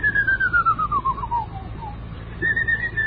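A man whistling a march tune, a clear, fairly close melodic line sliding downward and then resuming after a short pause, over a faint low background hum.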